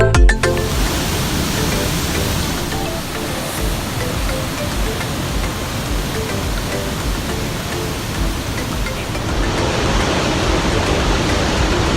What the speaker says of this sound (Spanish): Y aquí ya tenemos la cascada.